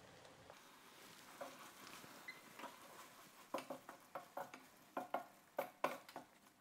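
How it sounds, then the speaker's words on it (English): Asparagus risotto stirred with a spoon in a pan off the heat as cheese melts in, a soft wet scraping and sizzle that turns into a run of distinct, fairly close stirring strokes in a steady rhythm, with no talking. "We add the cheese, we turn off the fire and we mix very well to help the cheese melting."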